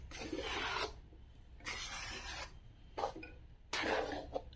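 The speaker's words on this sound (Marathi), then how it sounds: "पीठ चाळून घ्यायचं." Gram flour being sifted through a sieve for besan ladoo, heard as four bursts of dry, raspy scraping and tapping, each lasting about a second, with short pauses between them and no talking.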